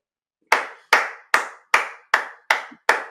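Seven sharp hand claps in an even, deliberate rhythm, close and loud, each ringing briefly in a quiet room with no talking.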